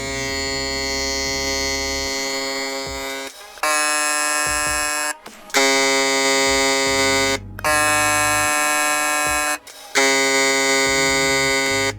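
A StyleCraft X hair trimmer runs with a loud, steady electric buzz. It cuts out briefly several times and then restarts, heard close up with no talking.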